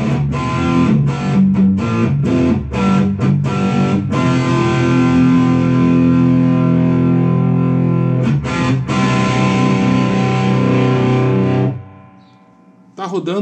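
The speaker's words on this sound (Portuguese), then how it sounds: "Vamos ver o drive, com um pouquinho de reverb" Overdriven electric guitar through a Mesa Boogie Tremoverb amp with drive and a touch of reverb, loud sustained chords and choppy strums that ring out and then cut to near silence at the end.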